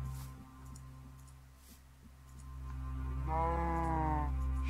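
A cow in the Minecraft video game lets out a drawn-out, wavering moo near the end, loud and close over a steady low in-game hum.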